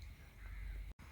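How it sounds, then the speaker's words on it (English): Crows cawing outdoors around old standing stones at a wild camping spot in southern England, faint and distant over a low wind rumble, with a brief dropout near the end. "there's lots of crows around."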